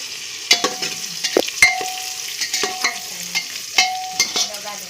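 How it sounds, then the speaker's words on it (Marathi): Ground garam masala and bay leaf frying in a pressure cooker pot for biryani, stirred with repeated sharp metallic scrapes and clinks over a soft, steady sizzle. "लगेच आपण वाटलेला गरम मसाला आणि तेजपत्ता घालून घ्यायचा आहे. हे पण चांगलं हलवून घ्यायचं आहे."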